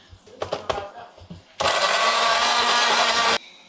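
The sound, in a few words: blender blending chili spice paste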